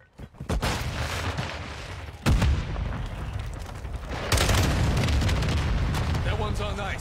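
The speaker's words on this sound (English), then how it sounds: "Grenade out!" Grenade explosion in an online military shooter video game, a loud booming blast with a sharp onset midway, followed by sustained rumbling gunfire and battle noise, with voices talking over the action.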